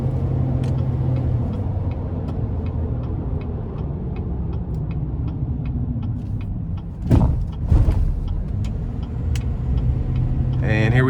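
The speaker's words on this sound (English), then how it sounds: "We'll definitely put our foot to the floor getting on the interstate." A 2016 GMC Sierra 3500HD Denali dually pickup with a 6.6-litre TurboDiesel V8 pulls hard onto an interstate, its steady low engine drone and road noise filling the cab, with a couple of brief louder surges and someone speaking over it.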